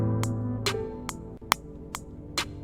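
A programmed hi-hat pattern playing back in Studio One 3: evenly spaced crisp ticks about every half second over a sustained low tone, no talking.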